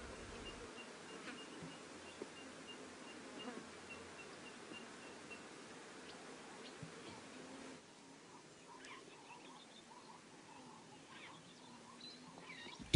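Flies buzz around a carcass in the savanna, a faint, steady insect drone with scattered small outdoor sounds and no voices.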